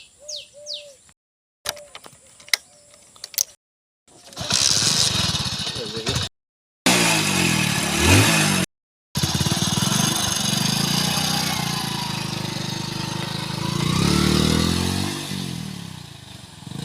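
A motorcycle engine runs outside a house, first in choppy bursts, then as a loud, steady, rough roar that swells near the end, with voices now and then.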